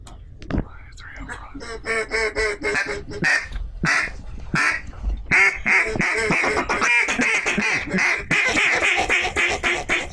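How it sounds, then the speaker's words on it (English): During a duck hunt in Arkansas, ducks quack in rapid, repeated bursts that grow busier and louder toward the end, while hunters whisper and talk quietly underneath. "Somebody shoot that duck"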